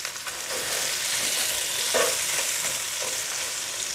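Chicken pieces for Cajun chicken pasta sizzle steadily in a hot pan, a constant bright crackling hiss with occasional soft clicks of stirring.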